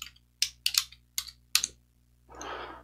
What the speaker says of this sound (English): We'll type in from Mars